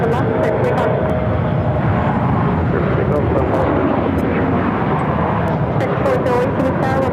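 Aircraft departing runway 17 left at Phoenix Sky Harbor, a steady loud jet engine roar throughout, with radio chatter and talk over it.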